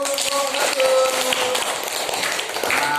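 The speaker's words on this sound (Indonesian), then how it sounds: "Tepuk tangan" Children in a classroom lesson clap their hands together in quick, scattered, overlapping claps at close range, steady for a few seconds, with a faint voice mixed in.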